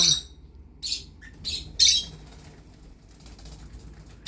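Pet lovebirds flying around indoors give several short, sharp chirps and squawks, loud and close, separated by quiet gaps with faint background noise.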